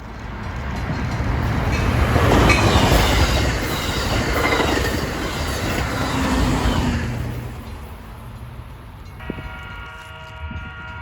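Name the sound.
Amtrak Hiawatha passenger train racing through Edgebrook station at track speed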